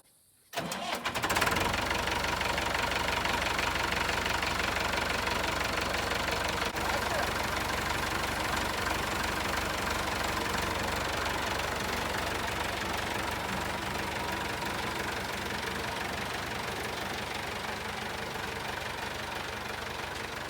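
A Massey Ferguson 65 diesel tractor engine starts and then runs steadily at a loud, close idle, with a continuous rough knocking rumble that lasts throughout.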